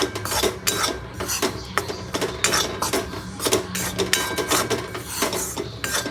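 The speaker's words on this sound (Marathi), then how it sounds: "आणि हा मस्तपैकी असं ह्याच्यावरती भाजून घ्यायचं लसूणमध्ये" Flour and garlic roast in a pan for white sauce while a utensil scrapes and clinks against the metal in steady, busy strokes, with no voices.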